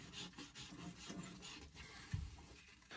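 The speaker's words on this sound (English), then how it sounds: "I'm gonna sand it to remove all the old solder from it" Close, steady rhythmic rubbing of sandpaper over an old copper pipe, scraping off leftover solder before a pressure reducing valve is soldered in, in brisk back-and-forth strokes with one firmer scrape.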